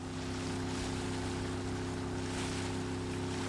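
Boat at sea turning sharply near the point of an island while tracking great white sharks, a steady loud engine drone with wind and water rush throughout, no talking.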